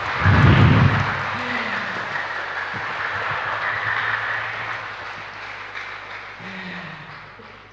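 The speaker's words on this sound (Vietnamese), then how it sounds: "Xin cảm ơn những tràng vỗ tay thật lớn của quý vị" Loud audience applause at a Buddhist talk opens as a dense wash of clapping, then fades to a quieter patter while a voice speaks over it.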